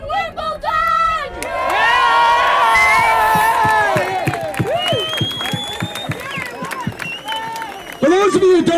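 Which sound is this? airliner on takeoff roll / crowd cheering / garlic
crowd cheering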